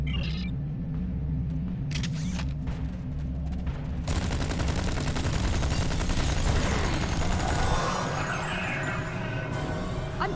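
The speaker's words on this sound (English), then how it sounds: "I'm taking fire here!" Sustained weapons fire roars in the space game Star Trek Online, a dense, continuous barrage that swells from about the middle onward and stays loud over a low rumbling background, with no speech.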